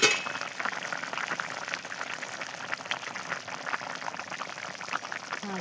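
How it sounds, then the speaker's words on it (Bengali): Pieces of fish go into a simmering Bengali fish curry, machher jhol, in a pan, where a steady bubbling, sizzling hiss carries on evenly at moderate volume with no voices. "তরকারিতে এখন আমি মাছ দিয়ে দিব।"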